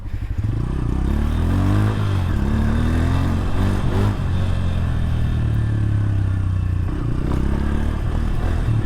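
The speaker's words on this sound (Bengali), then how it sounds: "বাইকগুলো মোটামুটি সবাই রেডি যাওয়ার জন্য। এই যে ডার্ট বাইক," Dirt bikes idle and rev together in a steady, loud engine drone in an offroad race paddock, with low rumbling and occasional clatter throughout.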